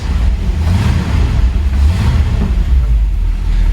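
A 1964 Ford Thunderbird engine rumbles and revs steadily with light throttle, a loud, continuous low drone that rises slightly without letting up.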